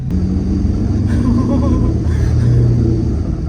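A rebuilt Corvette's engine rumbles loud and close through a steady, unbroken drone on its first test drive, with no break in the deep roar.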